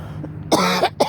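A person coughs after vaping, a couple of close, harsh bursts in quick succession, loud and alone.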